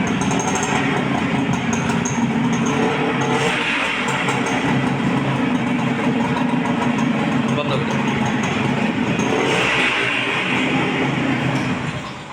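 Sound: antique silver edition motorcycle engine running

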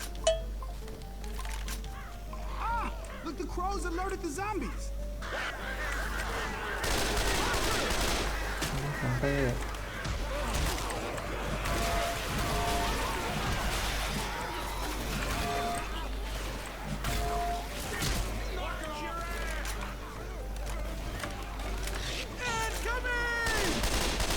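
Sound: gunfire in video game Left 4 Dead 2

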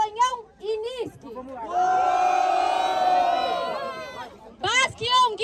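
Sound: crowd cheering and shouting at a rap battle

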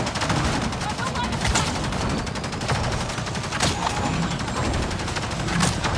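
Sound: rapid gunfire in the video game Avatar: Frontiers of Pandora

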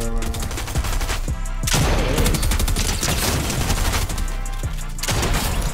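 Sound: gunshots in Fortnite video game

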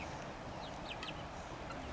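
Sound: chickens clucking

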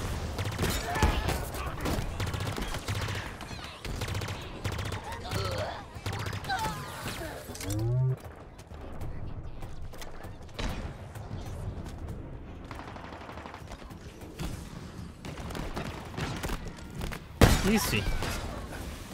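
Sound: explosions and gunfire in Halo Infinite video game

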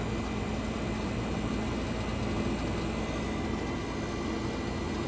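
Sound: 1965 Fedders window air conditioner compressor running

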